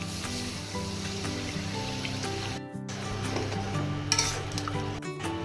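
Spices and fried potatoes sizzle and crackle in a pan for a Bengali rohu fish curry with ridge gourd, with steady frying hiss and occasional scraping stirs, close and moderately quiet, no voices.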